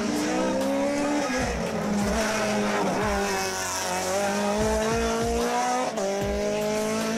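A Honda M20F race car climbing a mountain hill-climb course in Lanjarón, its engine wailing loud and steady through gear changes as the tires squeal, close and continuous.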